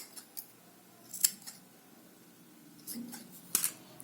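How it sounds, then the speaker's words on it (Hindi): Scissors cut yarn to trim a knitted pom-pom, with a few quick, crisp snips separated by pauses against faint, quiet handling noise. "कैंची से इनको कट करते जाइएगा।"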